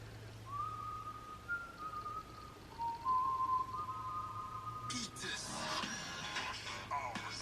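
A whistled melody in a K-pop track with a few sustained, clear tones in sequence. It plays over a quiet bed of music, and a sudden burst of denser sound comes in near the end.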